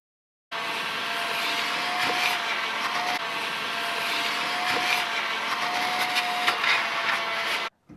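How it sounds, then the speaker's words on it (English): A vacuum cleaner works over the back of an emptied work van, running as one steady, continuous drone from start to finish with little change in pitch. "while Andrew's vacuuming in the back there, I'm going to be starting up in the front"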